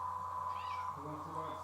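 A house cat gives a short meow that rises briefly over a person talking, against a steady low background hum.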